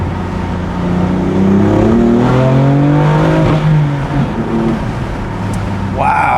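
A 2020 BMW M4 with a manual gearbox accelerates hard, its engine note climbing through rising harmonics then dropping at a shift before pulling again, loud and close from inside the car with some voice underneath.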